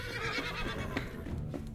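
A horse neighs loudly and close, a long shaky whinny with a couple of shorter calls over a steady background rumble, no voices.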